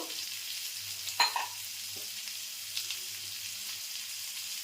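Chopped tomato and cumin powder frying in a pan on a home kitchen stove, a steady quiet sizzle throughout with a couple of soft clinks and scrapes from stirring.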